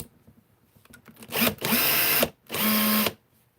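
A Bosch power drill whirs in two short bursts of under a second each, close and loud, after some light handling clicks.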